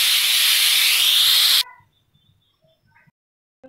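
Pressure cooker whistle releasing a loud, steady hiss of steam while cooking keema matar, cutting off abruptly after about a second and a half, followed by faint clinks and quiet kitchen sounds.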